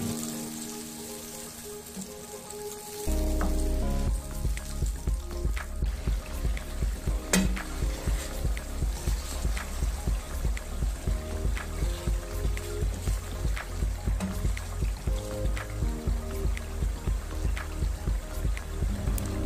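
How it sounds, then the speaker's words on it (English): Beef vegetable sauce with pepper mix cooking in a pot, a quiet hiss that gives way after a few seconds to a louder steady bubbling with soft rhythmic pops continuing throughout. "Now I'll add the pepper mix and give it a very good stir. Allow it to cook for 10 minutes before we add the vegetable."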